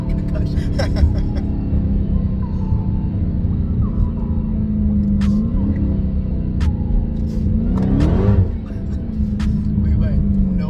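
A Toyota MR2 roars with a loud, steady engine drone that rises and swells in pitch under throttle, heard from inside the car on a road with a deep rumble throughout.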